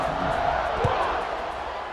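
Football stadium crowd at a college game between Army and Tulane, a broad, steady roar of cheering fans during a kickoff, dense and continuous.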